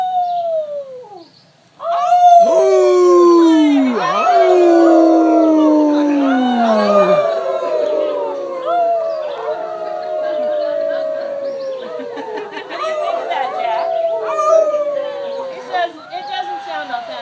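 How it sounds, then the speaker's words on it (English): Otterhounds at a Renaissance fair bay and howl in a loud chorus, long wavering howls overlapping near and clear for most of the stretch, starting after a brief quiet opening and trailing into mixed yips and baying. "once they get going, you can hear them baying."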